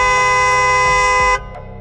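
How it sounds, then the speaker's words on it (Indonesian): A loud car horn blares in one sustained, harmonic honk at close range, cutting off abruptly and leaving faint street ambience. "pada saat yang sama terdengar klakson sangat keras"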